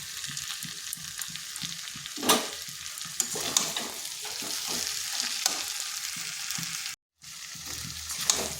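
Potato and cauliflower curry sautéed dry in a pan, with no water added, sizzles steadily while a utensil scrapes and stirs in repeated strokes. There is a brief dropout near the end and no speech.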